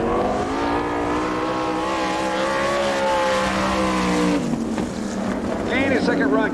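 A sprint race car on a dirt oval at Woodstock, Georgia, runs a solo time trial down the back straightaway, its engine howling steadily and loud before easing off with a rising, sweeping whine, under announcer talk.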